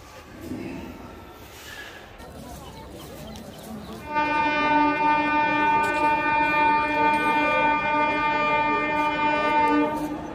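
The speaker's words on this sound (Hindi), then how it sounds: "लंबा हॉर्न दिया गाड़ी ने" A passing train sounds a long, loud horn: after a few seconds of quiet outdoor background, a sustained multi-tone blast starts abruptly and holds steady for over six seconds, with faint birds in the distance.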